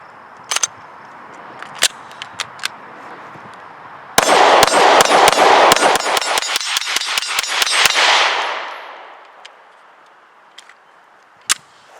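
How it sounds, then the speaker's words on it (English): An HK VP9 pistol is fired rapidly at a steel target. About four seconds of quick, loud, evenly spaced shots ring against the metal, set between a few isolated shots before and after. "stepping up the cadence of fire, the sights return back really quickly"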